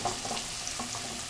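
Yellowfin tuna with carrots sautéing in a little olive oil, a soft steady sizzle with faint stirring scrapes, close and moderate in level, no one talking.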